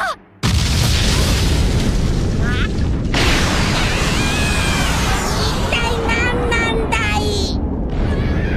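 A loud explosion goes off in an anime scene, a sustained roaring blast with deep rumble and crackling debris that fills most of the clip after a brief quiet start, with sweeping whooshes layered near the end.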